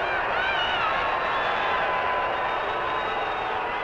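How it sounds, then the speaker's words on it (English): An arena crowd at a 1951 professional wrestling match roars after a disqualification win, a dense, steady wall of noise with whistles and shouts throughout. "Listen to this crowd."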